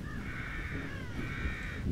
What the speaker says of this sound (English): Is that a murder of crows?